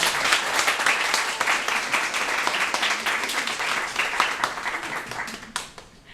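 An audience cheers the winning teams at an awards event with dense, loud, sustained clapping that fills the room and fades slightly at the end.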